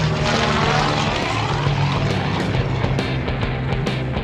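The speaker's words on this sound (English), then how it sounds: "This airplane, built in 1945, B-25J Mitchell bomber" A 1945 B-25J Mitchell bomber runs its radial propeller engines at an airshow in Brantford, Ontario, a loud, steady droning roar with a throbbing low hum, heard without talk.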